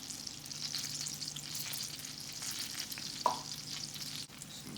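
Gnocchi fry in butter in a non-stick pan, a quiet, even sizzle heard close up, with a single soft clink partway through and no talking.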